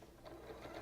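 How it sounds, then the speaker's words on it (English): A sewing machine stitches quilt fabric in a quick, even run of needle strokes, close and fairly quiet, with no voices. "Stop sewing before you hit the pins."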